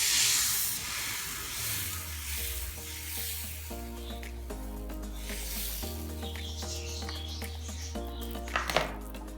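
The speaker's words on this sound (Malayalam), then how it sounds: "ഈ നെയ് റോസ്റ്റിൻ്റെ മാവ് ഇതിലേക്ക് ഒഴിച്ച് കൊടുക്കുകയാണ്" Ghee roast dosa batter hisses and sizzles steadily on a hot pan, a soft continuous fry heard over background music.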